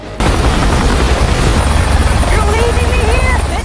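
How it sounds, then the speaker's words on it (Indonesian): Helicopter flying close overhead with a loud, continuous rotor chop that starts abruptly after a brief silence, while someone speaks over it. "Caleb kemudian berangkat naik ke helikopter ke rumahnya si pemimpin perusahaan itu."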